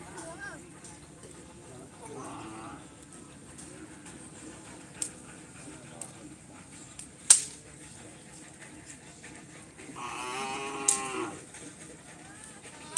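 Large cattle moo a couple of times at moderate distance at a karapan sapi bull race in Asemanis, with soft talking and scattered clicks and thumps around them.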